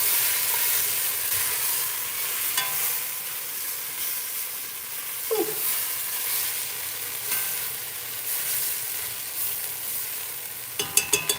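Pasta e fagioli base sizzles and browns in a pan, a steady close frying hiss with a faint scrape of stirring midway and a few sharp utensil taps at the end.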